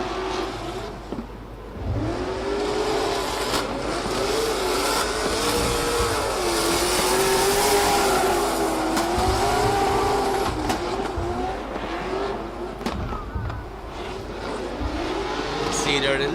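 Drift cars at the Oman International Drift Championship finals rev hard and squeal their tires in a continuous loud roar that swells and dips as the engines climb and fall. A commentator talks over it throughout.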